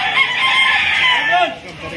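A rooster crows loudly and close by in one long drawn-out call, with harmonic bands falling away toward the end. Faint background clucking or murmuring sits underneath.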